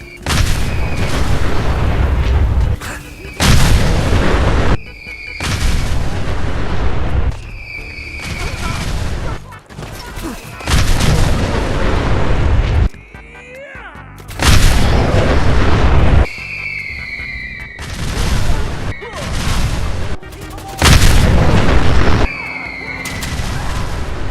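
Mini nuke launcher blasts in Fallout 4 tested with new upgrades: a series of loud, heavy booming explosions in repeated bursts with short gaps between them.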